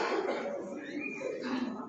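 A single person's cough, short and close, with a brief throaty follow-through that blends into voiced sound.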